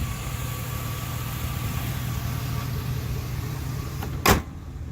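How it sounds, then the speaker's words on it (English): A steady, low engine idle from a Chevrolet Silverado pickup truck rumbles evenly throughout, fairly quiet and close, with a short sharp clatter near the end. "As you can hear, its engine sound is a little bit louder on this truck"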